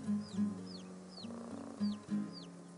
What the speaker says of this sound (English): the mother hen makes reassuring noises to let them know she's there